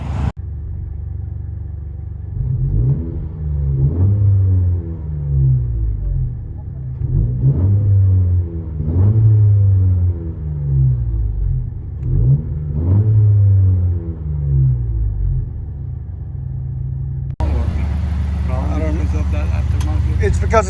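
Interior cabin sound of a 2017 Honda Civic Si with a MAP cat-back dual exhaust: a low droning engine rumble with several rising rev swells, steady and fairly loud, ending in a brighter, broader noise section.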